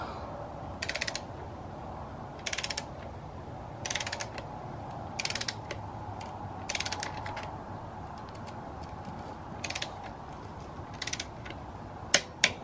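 Torque wrench set to 9 newton meters tightening the suspension triangle linkage bolts on a Sur Ron Light Bee, giving about nine short sharp ratcheting clicks spaced a second or two apart over a low background hum, close up.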